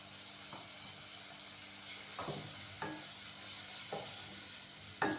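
Green peas get stirred into masala sautéed in a pan for potato bread roll filling, a faint steady sizzle broken by a few sharp spoon scrapes and taps, close by and with no voices.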